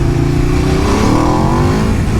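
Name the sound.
Aprilia RSV4 motorcycle revving with LeoVince Factory S exhaust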